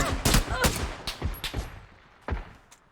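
Gunfire in the battle royale game PUBG on the Erangel map: several sharp shots crack out in an uneven burst, then a final loud report after a short pause, fairly close and with no talk over them.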